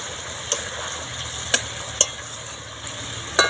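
Rohu fish and onion frying in a pan with a steady close sizzle as green chillies go in, punctuated by a few sharp spoon clicks against the pan.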